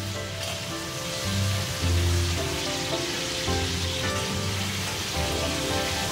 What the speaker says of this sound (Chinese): 看到腊肉变得有些透明了，就把瘦肉部分倒进去，继续炒香。